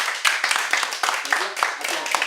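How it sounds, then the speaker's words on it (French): Scattered hand claps from a small group at a coaching session, a few uneven bursts of clapping over roughly two seconds, fairly close and moderate in level with some background noise. "on peut applaudir, Superman"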